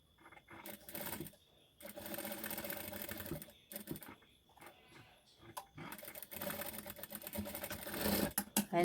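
A domestic sewing machine stitches along the folded edge of velvet fabric for a dress, running in short uneven bursts of rapid needle clatter with brief pauses between runs.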